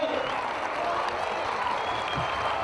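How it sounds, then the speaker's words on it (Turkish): A football stadium crowd at a Turkey versus Romania match applauds a substituted goal scorer, producing a steady, dense wash of clapping and crowd noise that holds evenly throughout at moderate distance. "Golün sahibi taraftardan da alkış aldı."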